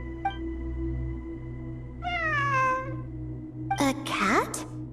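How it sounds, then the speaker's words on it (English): Two cat meows, a short one and then a longer, drawn-out call, ring out clearly over a steady low hum, and a third meow near the end falls in with brief rustling. "It really is a cat."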